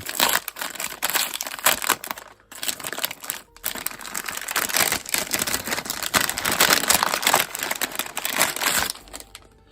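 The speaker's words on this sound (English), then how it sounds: "Okay, so let's quickly unpackage this." Packaging for a SmallRig cage made for the iPhone 15 Pro being opened, with loud, continuous crinkling and crushing of wrapping close by, broken by a couple of short pauses.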